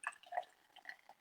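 Bubbly Prosecco pours into a glass with soft trickling and fizzy, crackling pops, faint and close over a brief moment.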